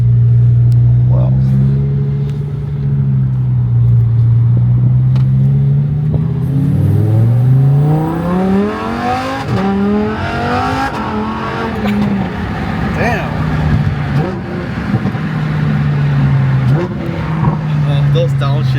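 Lamborghini Huracan Evo with a naturally aspirated V10, dual-clutch gearbox and near-9,000 rpm redline revs hard from inside the cabin, sweeping up through gears and then blipping through crackling downshifts, loud and close with people talking over it.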